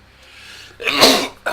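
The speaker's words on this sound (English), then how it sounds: "sneeze my brains out, I guess." A single close sneeze with a short breathy intake before a sharp, loud burst of air.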